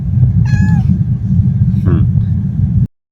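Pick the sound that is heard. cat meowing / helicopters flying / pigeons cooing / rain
cat meowing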